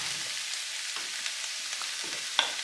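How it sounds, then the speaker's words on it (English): Random vegetables frying in a pan, a soft continuous sizzle with faint crackles and a couple of light pops, quiet and close with no talking. "I fried the vegetables for about 5 minutes."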